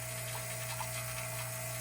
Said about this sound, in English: then I just turn the pump back on